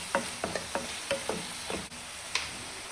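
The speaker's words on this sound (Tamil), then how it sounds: "நல்லா எண்ணெயிலே வதக்கிக்கலாம்" Fish curry masala sautéing in oil for a traditional sardine kulambu: a soft continuous sizzle broken by a series of sharp ladle scrapes and taps against the pan, about eight strokes at an uneven rhythm, with no talking.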